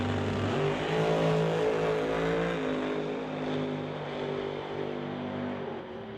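Drag racing engines roar steadily at a track, dragsters and a Pontiac Grand Am racing, with sustained loud engine drone and shifting pitch like cars accelerating down the strip.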